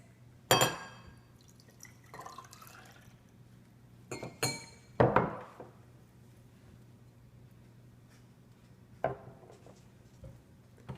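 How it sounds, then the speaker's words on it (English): Glassware clinks and rings as an acid and a base are poured and mixed, with a few sharp glassy taps and splashes spaced apart amid near-silence. "Let's see what happens when we mix an acid and a base."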